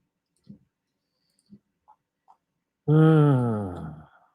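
Four quiet computer mouse clicks, spaced roughly a second apart in an otherwise silent room, followed by a brief voiced sound.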